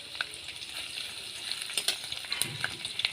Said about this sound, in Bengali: এখন আমি তেলের মধ্যে দেব পেঁয়াজ কুচি,